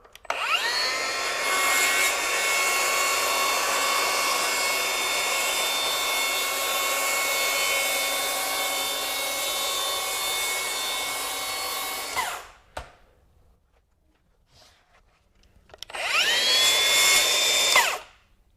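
A Milwaukee 6-1/2-inch plunge track saw cuts along a rail through hardwood, a loud, steady high whine running about twelve seconds before winding down, then a brief pause and a second short burst of cutting.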